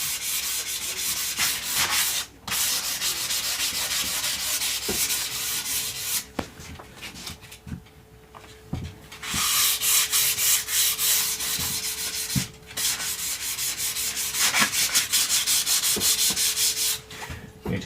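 Sanding rounds over the wooden edges of a bass guitar body, a loud, close, steady rasping rub in long strokes broken by brief pauses, with no voices.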